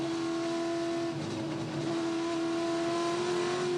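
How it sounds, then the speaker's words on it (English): Onboard view from a touring car at Queensland Raceway during a 2015 Touring Car Masters race, the engine holding a loud steady drone with a brief dip in pitch mid-clip before pulling hard again, close and continuous. "Mark King just tailing on the back of Eddie Abel Nisa, who we're right on board with now"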